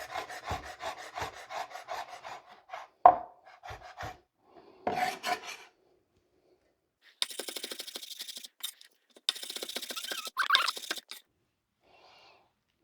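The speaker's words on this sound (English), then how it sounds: "So we're just going to chop this meat up into small pieces, kind of like mince it" A knife chops snowshoe hare meat into small minced pieces, making quick rhythmic rasping strokes in close, quiet bursts that are separated by pauses.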